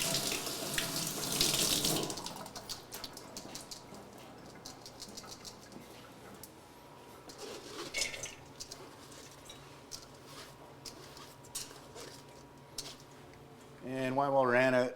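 Tap water runs into a sink as fine mud is rinsed from food in a colander, a loud splashing burst at the start, then a softer steady trickle, with a louder gush returning at the end.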